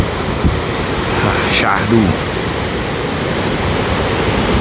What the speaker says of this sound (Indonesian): sambil ngedengerin deburan ombak kayak gini nih guys